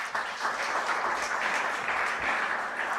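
Sustained applause from an audience at a tech conference on AI and defence, a steady wash of many hands clapping at even loudness throughout.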